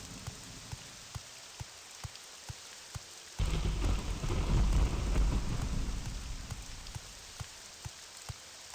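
Thunderstorm in Morrowind: steady rain patters with soft periodic ticks, then a loud rolling thunderclap bursts in and rumbles for several seconds before fading back to rain.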